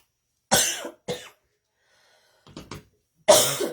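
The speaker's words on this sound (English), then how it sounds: "I'm coughing a little more tonight than normal." A person coughs in several short bursts: two sharp coughs, a pause, softer quick coughs, then another loud cough, close and clear with no other sound between.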